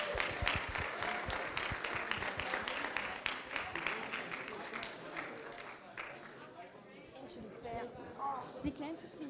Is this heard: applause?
yes